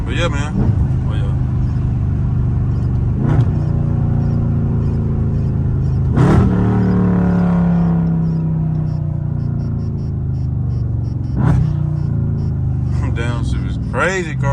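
Loud engine drone from a catless Dodge Scat Pack in track mode, cut by several sharp blips as it downshifts, each one a quick rev flare before the exhaust tone drops back.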